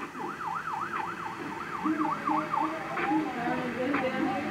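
Wailing emergency sirens from ambulance and fire department vehicles on a downtown Las Vegas street, rising and falling in a steady yelp-like cycle, moderately distant amid traffic and street noise.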